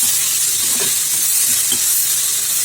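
Onions with salt and pepper sautéing in a pan, a steady close sizzle with faint stirring scrapes and no voices.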